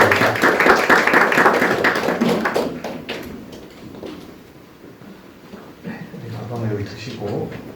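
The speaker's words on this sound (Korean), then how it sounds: "큰 박수와 함께 환영을 해주시면 좋겠습니다." Audience clapping to welcome a speaker at a social entrepreneurship training session, loud at first then fading out, followed by a person speaking over a quieter room.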